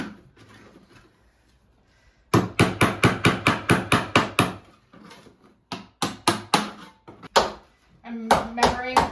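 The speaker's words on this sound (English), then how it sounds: "How many hours we spent chiseling in Blue's room to get this flooring up?" Old flooring is chiseled up indoors during a bedroom makeover, with loud, sharp, rapid hammer-on-chisel blows in several rhythmic bursts separated by short pauses.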